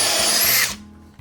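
Drill boring pocket holes in wood pieces for a jon boat storage build, a close, loud whining spin that winds down abruptly partway through, leaving a low hum with a brief knock at the end.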